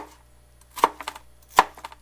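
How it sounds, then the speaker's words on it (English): Kitchen knife dicing green tomatoes into small chunks on a cutting board, two sharp chopping knocks each followed by a few lighter taps, close and clear against quiet. "I dice both the tomatoes and the apples. In this case, I'm making fairly small chunks of tomatoes."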